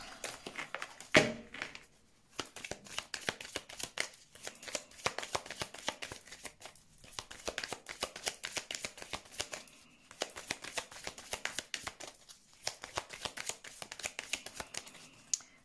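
Tarot cards are shuffled for a reading in a quiet room, giving a fairly close run of riffling and slapping bursts with short pauses between them and no voice.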